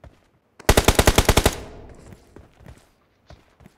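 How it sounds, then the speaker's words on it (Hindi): Automatic gunfire from the battle royale game BGMI rips out in a fast burst of about ten loud shots, then trails off into faint rustling and a couple of soft footstep-like taps. "तुम घूमो मैं फायर कर रहा हूं"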